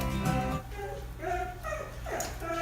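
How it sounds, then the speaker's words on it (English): A dog nearby lets out several short yips and whimpering barks, high and whiny, over a constant low background hum. "That was the doggy."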